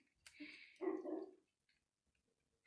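A dog barks outdoors in two close, loud bursts in quick succession, followed by near silence and a faint sound at the very end.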